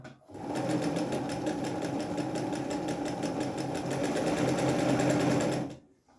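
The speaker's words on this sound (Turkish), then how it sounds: "Şimdi geri geri dikecek makine." A Singer Felicita sewing machine runs steadily in reverse stitch for about five seconds, a fast, even mechanical whirr with rapid needle clatter, close and loud, starting and stopping cleanly.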